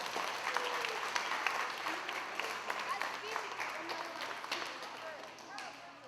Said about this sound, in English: Give Bella a big round of applause.